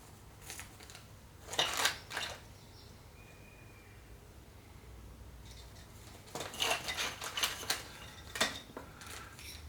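Light plastic parts and small screws of an NXP Hovergames drone being handled during unboxing, with soft clinks and rustles in two short bursts separated by a quiet stretch, faint and close.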